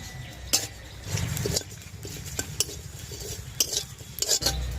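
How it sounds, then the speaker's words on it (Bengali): A spoon stirs whole cumin and other whole spices dry-frying in a pan: soft scraping strokes with sharp intermittent clinks against the metal, quiet and close, no voices. "আরও দু মিনিট নাড়াচাড়া করে নেব"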